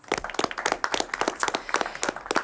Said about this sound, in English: So I'd like to give you guys a huge round of applause.